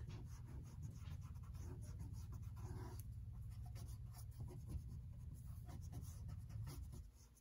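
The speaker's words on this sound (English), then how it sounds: "this is where your eraser comes in, because now you just want to erase" Pencil eraser rubbing out pencil lines on paper for a yin-yang Zentangle drawing, a steady close scrubbing that runs continuously for about seven seconds before stopping.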